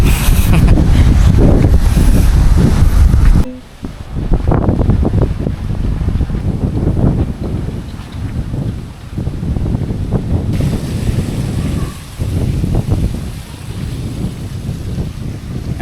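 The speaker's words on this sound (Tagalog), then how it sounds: "sobrang lakas ng hangin" Strong wind roars and buffets the microphone continuously, loud and gusty throughout, with a brief dip partway through before the rushing resumes.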